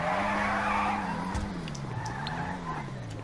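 A car engine in GTA V revs with a steady droning harmonic that rises and dips, mixed with tire squeal and skidding noise, loud and continuous throughout.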